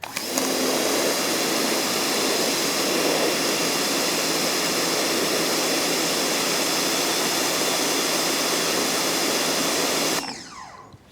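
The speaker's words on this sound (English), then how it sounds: "we're gonna try both nozzles, the orange 15-degree, and then we're gonna switch over to the high pressure nozzle" A Ryobi 1600 PSI pressure washer with an orange 15-degree nozzle blasts a cinder block in a loud, steady hissing roar that lasts about ten seconds, then cuts off abruptly.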